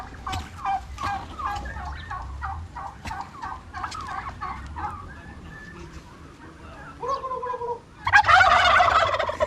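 Turkeys gobble in reply at a nature sanctuary, a series of rapid rattling gobbles heard fairly close, followed by a louder, harsher burst of fowl calls near the end.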